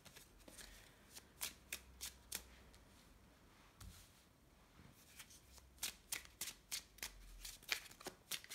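Fairy tarot cards are shuffled and laid out in quiet, close bursts of crisp flicks and snaps, with a lull midway before another run of card slaps.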